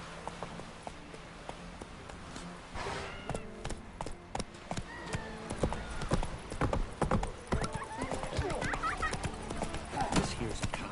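In The Witcher 3: The Wild Hunt, horse hooves clip-clop at a steady pace through a village, with occasional whinnies and other sounds mixed in while people talk over them.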